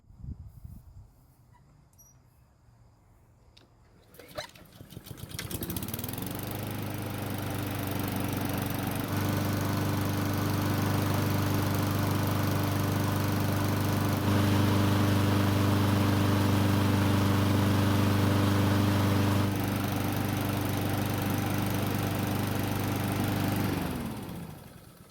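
Honda lawn mower, just repaired for oil leaks, starts with a pull-cord rattle and catches into a steady, loud running drone that holds evenly for about twenty seconds before cutting out, with no talking.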